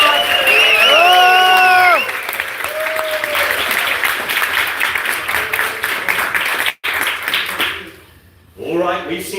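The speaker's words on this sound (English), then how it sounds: "let's get one more big round of applause to our" An audience applauds sumo wrestlers in a burst of clapping and cheering that fills the middle stretch, with a voice speaking before it and again as it dies down.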